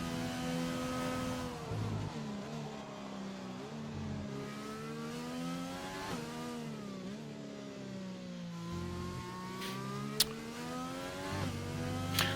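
A race car engine in a racing video game revs and shifts continuously through a hot lap on a Britain circuit, rising and falling pitch with gear changes, loud and steady with no talk.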